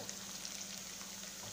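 Onions fry in a pan until reddish-brown, a brief, faint, even sizzle with no voices.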